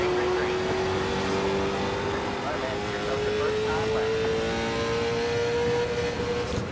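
Late model stock car engines drone steadily at Thompson Speedway in iRacing, one sustained high engine tone slowly rising in pitch, loud and continuous, with a voice speaking over it.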